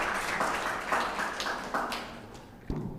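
A short burst of audience applause at a university guest lecture, fairly even clapping that thins out toward the end, heard from a room with some distance.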